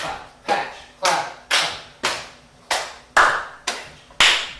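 Body percussion pattern of thigh pats and hand claps in a music theory workshop: eight sharp, evenly spaced strikes at a steady pulse, close and clear, with no talking over them.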